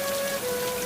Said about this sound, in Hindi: बारिश भी होने लगी थी